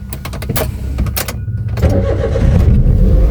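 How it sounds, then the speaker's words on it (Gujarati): A car engine cranks and catches in hot weather, settling into a steady, close idle that grows louder and fuller toward the end, with no talking over it. "બહુ ગરમી પડે તો ગાડી સ્ટાર્ટ કરીએ"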